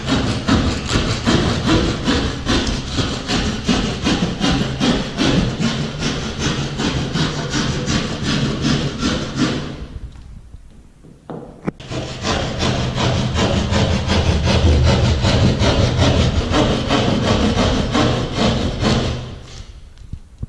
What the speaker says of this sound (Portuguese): é só pegar o serrote aqui e começar a cortar, descendo aí, seguindo a linha